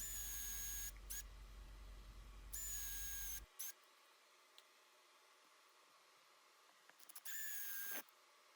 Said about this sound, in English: So here I am again drilling.